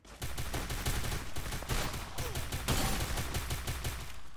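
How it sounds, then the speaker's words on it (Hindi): Rapid bursts of automatic gunfire from the Garena Free Fire video game, with dense repeated shots that rattle on steadily for several seconds. The volume is moderate and no one is speaking. "ये पता नहीं किसी गोली मार रहे हैं यहाँ से।"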